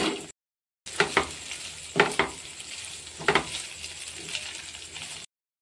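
Boiled pasta with chopped green chilli being stirred in a frying pan, several distinct scraping strokes over a steady sizzle, close and alone with no talk.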